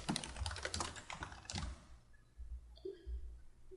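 Text being typed on a computer keyboard in a text editor, a brisk run of soft, close key taps that stops partway, leaving a quiet room with faint clicks.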